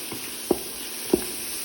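Onions fry in oil with a pinch of turmeric for Saudi meat kabsa, a faint steady sizzle broken by two distinct soft scraping knocks of a spoon stirring the pan.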